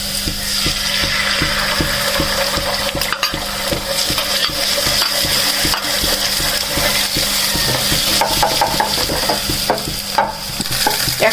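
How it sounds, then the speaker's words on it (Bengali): Eggs stirred into onion and chili frying in a pan on a stove, making a loud, continuous sizzle with rapid, rhythmic scraping strokes close by throughout. "চুলাতে পেঁয়াজ মরিচ ভেজে নিয়েছি। এখন ডিম দিয়ে দিব।"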